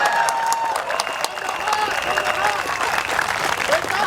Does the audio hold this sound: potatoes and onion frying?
no